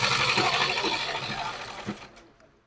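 A sewing machine stitches a palazzo's fabric in a brief, steady mechanical run of close needle chatter that fades out near the end, with no voices.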